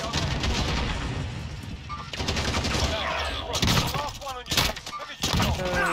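Pistol gunfight in Call of Duty Warzone, a dense run of gunfire and impacts under continuous game noise, with sharp bursts growing louder toward the end and voices talking over the action.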